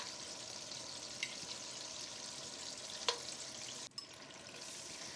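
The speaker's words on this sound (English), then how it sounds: "Fry them for only about a minute in the oil and then take them out" Seafood frying in hot oil for an Indian seafood rice dish, a steady hiss of sizzling with a few faint clicks and a brief knock, even and moderately quiet, with no talking.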